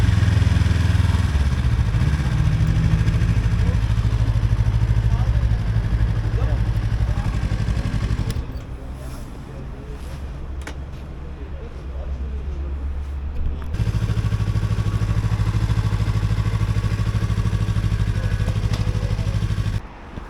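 A Yamaha R25 motorcycle engine runs steadily close by with a low, even rumble, its level briefly dropping in the middle before resuming, while people talk near it.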